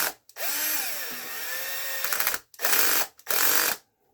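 A power drill backs out screws on the center brace of an Arrma Mojave 6S RC truck, whirring up and down in pitch through one long run and then two short bursts, loud and close with no talk.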